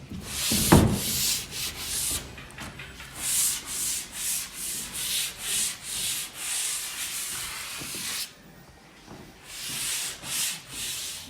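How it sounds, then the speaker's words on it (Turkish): Rhythmic rasping of sandpaper rubbed back and forth over a wooden tabletop to distress it, repeated strokes in a steady pattern with a short pause near the end. "zımparayla eskitmemizi yaptık masamızın üstüne."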